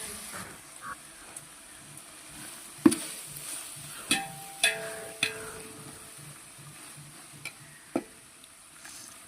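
Onions and coriander leaves sautéing in a pan for Ambur-style mutton biryani, a soft steady sizzle broken by several sharp knocks and scrapes of a spoon against the pan.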